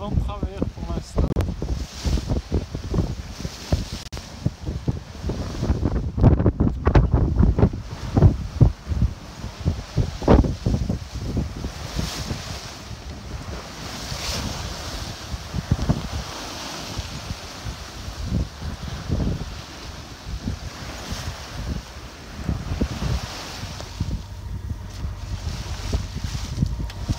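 A Force 5-6 crosswind buffets a sailboat at sea off the Greek islands, roaring gusts and microphone wind noise mixing with splashing water and hull sounds, with voices talking intermittently.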